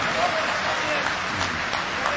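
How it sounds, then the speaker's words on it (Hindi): An audience at an Urdu poetry gathering applauds a poet, a continuous wash of clapping with voices and talk mixed in. "एक बार तालियां बजा के मुझे"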